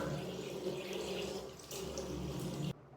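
Tap water running steadily into a shower before a hot shower at home, a close, continuous hiss that cuts off abruptly near the end.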